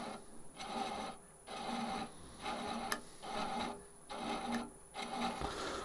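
Ashley Iles universal thread chaser cutting a thread on a wood lathe turning at about 260 rpm, a steady rasping scrape repeated in regular passes about every second, close and alone with a faint hum beneath.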